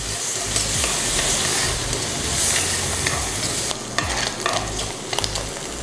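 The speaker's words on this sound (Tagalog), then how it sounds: "Ang lulutuin naman natin ngayon, yung mushroom. shiitake mushroom." Shiitake mushrooms fry in olive oil in a pan, a steady loud sizzle with scraping stirs and occasional spatters throughout, close and continuous with no voices.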